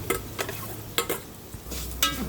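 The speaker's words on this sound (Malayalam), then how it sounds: "ഇത് നമുക്ക് ഇതിനകത്ത് വഴക്കാം" Banana stem thoran with green gram, garlic, dried red chillies and crushed coconut is stirred in a pan: a few quiet scraping strokes about every half second over a faint, low sizzle, with no voices.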